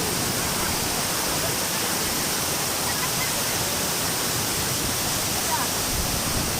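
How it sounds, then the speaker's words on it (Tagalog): Tiokelep Waterfall in Lombok roars as a steady, dense rush of falling water, loud and close, filling the whole stretch without pause. "Tiokelep Waterfall in Lombok."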